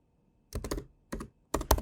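A few quick bursts of keystrokes on a computer keyboard while typing a short word into web design software: three close clusters of crisp clicks separated by brief pauses, near and clear in a quiet room.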